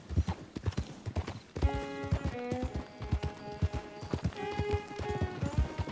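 Video game horse hooves clip-clopping in a fast, steady rhythm, close and prominent, with a synthetic whinny-like tonal sound layered over the middle.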